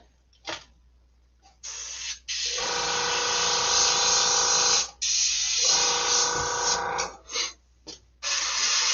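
Spray gun painting in an open workspace, delivering long steady hissing bursts of several seconds each, separated by short pauses and quick puffs, loud and close.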